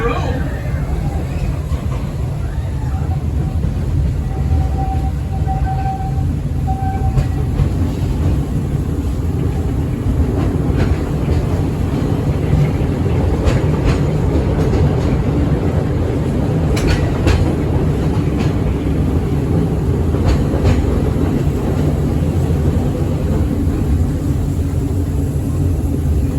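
Walt Disney World Railway train rolling along its tracks, a continuous low rumble with rhythmic wheel clatter and occasional squeaks, steady and close, while a voice narrates over it.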